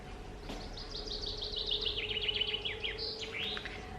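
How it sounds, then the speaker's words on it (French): Outdoor birds sing in a quick run of bright, chirping phrases, moderately close over a quiet background hum, with a brief louder burst near the end. "On entend les oiseaux."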